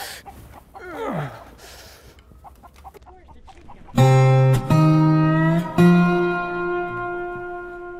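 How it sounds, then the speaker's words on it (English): A chicken in a cartoon western clucks with a short falling squawk, then gives several loud, sustained, strongly pitched calls in quick succession, close and alone without talk. "Nice chicken!"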